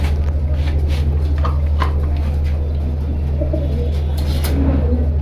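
Pigeons at a bird seller's loft coo in low repeated calls, partly masked by a loud constant electrical hum and background noise.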